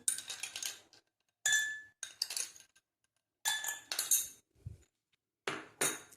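Ice cubes dropped into a glass of lemon masala drink: several separate bright clinks and rattles in short bursts with quiet gaps between, close and crisp.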